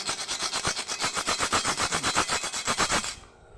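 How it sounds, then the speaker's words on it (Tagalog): A steel hacksaw cuts hard snow white crystal leklai stone in steady back-and-forth strokes, a close, loud rhythmic rasp of about twenty quick passes that stops abruptly near the end. "Yan po ito, lagaring bakal to."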